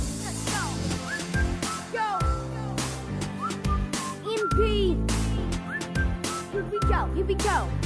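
Melodic human whistling in a cover of a pop song, a run of bright sliding whistled notes over a thumping pop beat and sung vocals, loud and upfront throughout.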